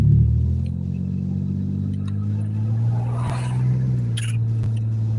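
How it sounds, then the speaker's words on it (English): A car engine idles roughly with a steady low rumble and slight unevenness, close and continuous throughout. "My car sounds horrible, you guys."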